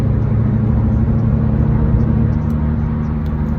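Inside a car cruising on a highway, a loud, constant low engine and road rumble fills the cabin, with steady tire drone and no pauses. No one speaks.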